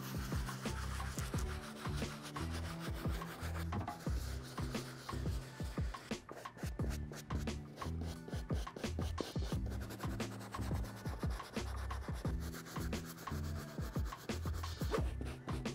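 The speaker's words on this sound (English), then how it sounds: "start hammering away with our soft bristle brush" A soft bristle brush scrubs the suede uppers of a sneaker in steady back-and-forth strokes, a continuous close rubbing and scratching with rhythmic pulses and no talking.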